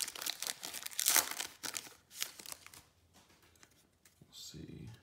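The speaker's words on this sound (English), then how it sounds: "I hate Prizm packs, trying to open them" Foil wrapper of a 2019-20 Prizm basketball retail card pack crinkles and tears in sharp bursts up close, then quiets to light rustling and handling before a final crackle.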